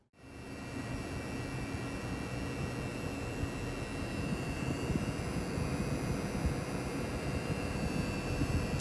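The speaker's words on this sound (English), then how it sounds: "this card also exhibits coil whine similar to the other cards I have tested" Coil whine from a Gigabyte RTX 3070 Gaming OC graphics card under test: thin, steady high-pitched tones sit over a constant airy, fan-like rush that holds even from start to finish.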